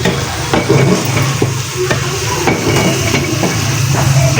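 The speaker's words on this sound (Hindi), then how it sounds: "हम लोग कुछ इसमें हरी मिर्चें भी ऐड कर रहे हैं। इसे भी थोड़ा सा फ्राई कर लेते हैं साथ ही।" Green chillies and garlic frying together for a garlic pickle, a steady close sizzle with frequent stirring scrapes and light clinks of a utensil against the pan, no voices.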